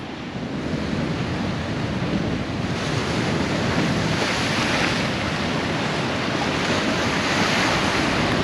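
Strong wind buffets the microphone in a constant roar, mixed with the wash of surf nearby.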